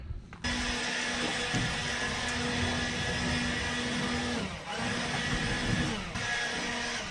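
An air blower blasting dust out of the back of a vehicle, a loud continuous whooshing roar with a steady hum, briefly dipping twice before resuming.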